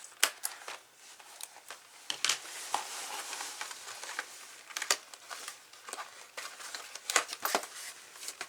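A plastic bag is crinkled and handled while a craft-supply box is unboxed, close and fairly quiet, a run of sharp crackling snaps and rustles scattered irregularly throughout, with no talking.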